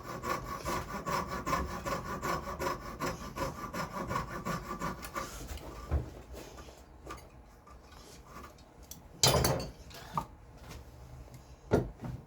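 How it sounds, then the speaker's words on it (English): Fret saw cutting waste out of the middle of a wood piece, a steady rapid rasping stroke for about six seconds, then quieter scattered scrapes and a couple of sharp knocks or clatters nearby. "Take my fret saw and cut the waste out of the middle, staying above my scribe line."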